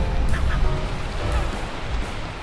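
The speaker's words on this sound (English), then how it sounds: "The gulls are very annoyed at me. You can probably hear them all squawking" Gulls squawk on an island, a few harsh cries rising over a loud, continuous wash of wind and surf, the birds somewhat distant.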